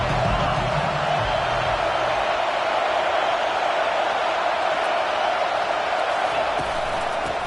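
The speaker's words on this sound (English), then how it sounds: "This crowd bringing the energy and noise early." A huge college football stadium crowd roars and cheers continuously, a dense, loud wall of noise with no break.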